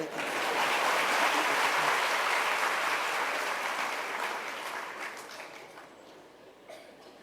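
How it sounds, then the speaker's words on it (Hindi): Audience clapping during a Hindi sermon in Ratlam, a broad crowd applause that starts full and loud, then slowly thins and fades toward the end, with a few stray claps at the close. "यार तालियां तो बजाओ।"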